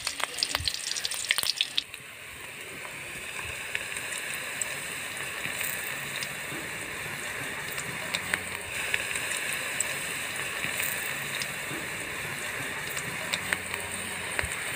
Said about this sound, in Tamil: இப்போ எண்ணெய் நல்லா காஞ்சிருச்சு,